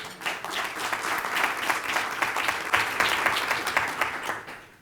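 An audience at a workforce development business conference applauds a speaker being introduced, a dense, steady wash of many hands clapping that holds for the whole stretch without fading.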